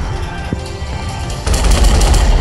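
Naval guns fire in a warship battle video game, a dense, continuous rumble of booms and gunfire that swells louder partway through, with no talk over it.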